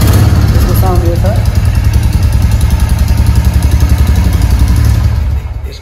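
A new Royal Enfield Classic motorcycle idles close by with a steady, loud low thump and a faint mechanical clatter that continues unchanged for several seconds, then fades slightly at the end.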